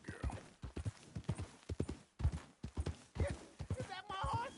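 Horse hooves clip-clopping in the Red Dead Redemption II video game, a string of close, rhythmic knocks that carries on beneath a speaking voice, with a faint whinny-like tone near the end.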